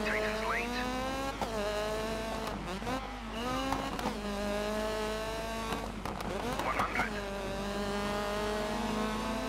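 Rally car from the racing game Dirt 3 speeds along a downhill stage, its engine droning steadily with rising and falling revs through gear shifts, loud and close throughout, with occasional bumps and bursts.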